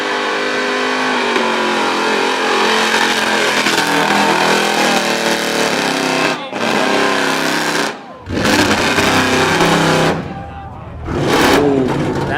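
A burnout car at the Red CentreNATS event in Australia, its engine revving hard and loud in sustained howling bursts with brief dips, a commentator's voice running over the roar.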